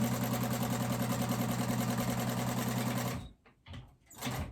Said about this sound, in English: let me just top stitch this real quick